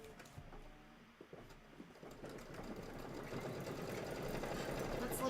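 A Kimberbell embroidery sewing machine stitches with a fast, even mechanical whir that builds in steadiness and volume, after a few scattered clicks and handling sounds at the start.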